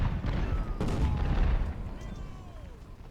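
A 24-pounder artillery piece fires in Ultimate General: Civil War, a dense rumbling barrage of booms with sharp reports near the start, then fading into a lower distant roll.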